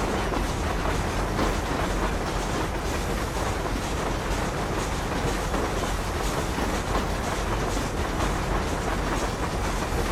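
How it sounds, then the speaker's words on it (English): A train rolling along the tracks in the Red Dead Redemption video game, a loud continuous rumble with steady clickety-clack from the wheels, heard alone for about ten seconds. "So I'm just going to ride the train for a second"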